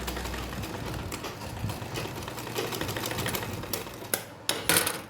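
Sewing machine stitching below a lace trim on a small fancy dress, a fast, steady mechanical whirring chatter close by, ending with a few sharper clicks and bursts.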